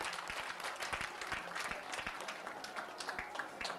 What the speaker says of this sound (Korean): 여러분 축하의 박수 부탁드립니다.